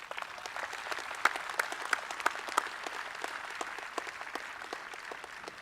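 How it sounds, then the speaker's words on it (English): Crowd applause at a Global War on Terrorism memorial rededication ceremony, a fairly quiet, somewhat distant patter of many hands with scattered sharper individual claps, steady throughout. "give me a round of applause for our Patriot Guard, our band, our color guard"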